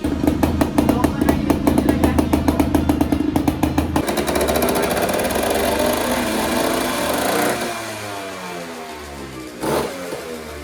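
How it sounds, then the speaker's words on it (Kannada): Yamaha RX135 two-stroke motorcycle with an open exhaust and no silencer, revving loudly and close up with rapid pulsing bursts, then settling into a steady high idle that fades toward the end. "ಗಾಡಿದು ಎಕ್ಸಾಸ್ಟ್ ಓಪನ್ ಆಗಿದೆ ಹಂಗಾಗಿ ಸೈಲೆನ್ಸ್ ಇರಲಿಲ್ಲ ಗಾಡಿಗೆ"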